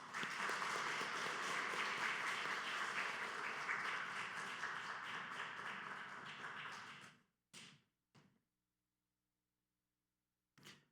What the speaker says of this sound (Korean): 우리 목사님 모실 때 뜨거운 박수로 환영하고 영접하도록 하겠습니다